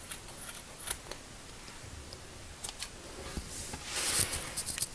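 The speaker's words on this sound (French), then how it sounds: "avec les ciseaux, on va venir dégarnir" Scissors snip quietly several times in an irregular rhythm, close by, trimming fabric corners, with light rustling of fabric between cuts.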